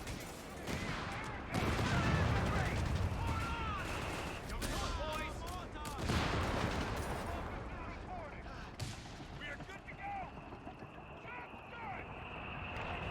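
Company of Heroes 3 battle with US forces: scattered gunshots and heavy mortar blasts come in bursts, mixed with unit voice lines and a person talking over the action.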